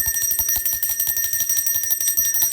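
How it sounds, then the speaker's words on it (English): Loud, steady ringing of an electric bell, its rapid clatter continuing without pause throughout. "I'm going to ring the bell on that."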